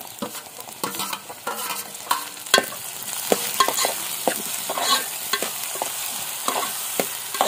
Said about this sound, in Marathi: आता टोमॅटो नरम होईपर्यंत परतून घ्यायचं।